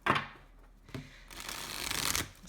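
Oracle cards being shuffled close up, a couple of quick riffle bursts followed by a longer papery rustle, fairly quiet with no talking.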